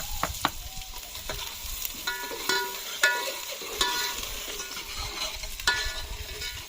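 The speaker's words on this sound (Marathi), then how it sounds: "आता कांदा परतायला टाकलाय।" Onions frying in hot oil for a village-style mutton curry cooked over a wood-fired stove, a steady close sizzle broken by repeated scraping and clinking stirs.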